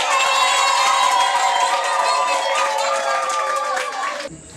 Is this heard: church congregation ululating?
yes